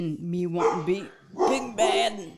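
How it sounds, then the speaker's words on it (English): Dogs bark and yip near someone speaking indoors, several short barks overlapping her continuous talk through the clip. "Sorry about the dogs."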